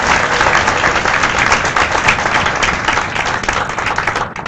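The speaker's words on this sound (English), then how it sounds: "Clap fully clap करिए जोर से." Audience at a guest lecture applauding loudly, a dense, steady wash of many hands clapping together that holds strong throughout before easing slightly at the very end.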